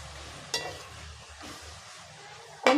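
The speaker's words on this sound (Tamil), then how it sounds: "இப்போ இந்த எண்ணெயிலேயே நம்ம கட் பண்ணி வச்சுருக்க கத்திரிக்காய் சேர்த்துடலாம்." Cut eggplant hitting hot oil for a dried fish curry gives a quiet, steady sizzle, with two sharp stirring or scraping clatters near the start and end.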